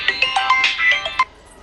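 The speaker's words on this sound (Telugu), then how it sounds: "అగో మా బామ్మారిది చేస్తాండ్రు ఫోను." An incoming call triggers a mobile phone ringtone, a bright run of quick melodic electronic notes played up close, cutting off after about a second.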